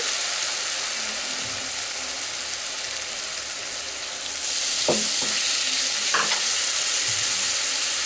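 Coriander and chili powder fry in a pan for a Bengali dhoka curry, giving a steady soft sizzle that brightens midway, with a few clinks of a spoon stirring against the pan.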